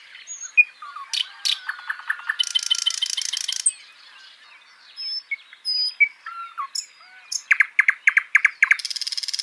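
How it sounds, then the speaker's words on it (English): Nightingale thrush birdsong: bright, rapid chirps, trills and squawky notes in repeated bursts with short pauses, clear and fairly close, no voices. "looked at birdsong and things like the nightingale thrush here"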